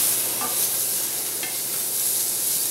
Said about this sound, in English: all we're going to do now is add in our stir fry sauce.